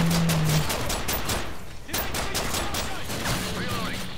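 Pistol fire in Call of Duty MW3 Survival on the Dome map, a dense run of sharp shots with brief gaps, loud and close over busy game noise.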